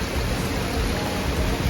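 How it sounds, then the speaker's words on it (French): Heavy tropical rain in Martinique pours down in a dense, constant hiss, loud and close, with no voices. "Il pleut."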